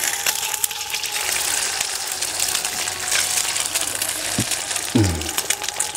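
Eggs fry in a pan with a constant loud sizzle and crackle, close up, with a couple of short knocks near the end.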